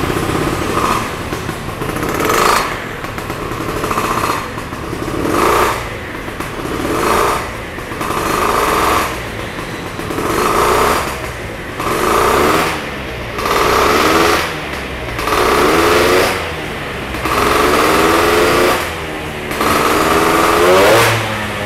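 An Italjet Dragster 180 two-stroke scooter engine idles with a rattly buzz and is blipped about nine times in a steady rhythm, each rev swelling into a loud, raspy whine and then dropping back.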